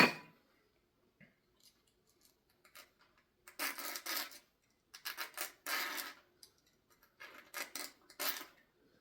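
Short bursts of metal filing on small silver ring pieces, several rasping strokes in clusters, fairly close and quiet with brief pauses between passes.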